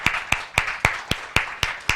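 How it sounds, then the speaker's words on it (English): Slow, evenly spaced claps, about eight single sharp hits in two seconds, fairly close and clear with no voices, more like one person clapping than a full crowd. "another round of applause."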